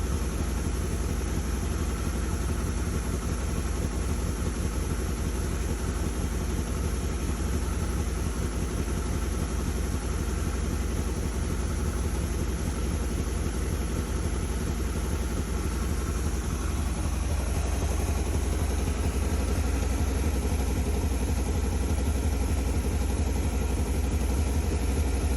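Car engine warming up with a faulty brand new electric choke, a steady droning idle with a faint clatter running evenly throughout, close and unchanging.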